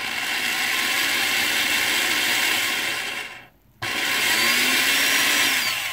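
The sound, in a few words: power drill drilling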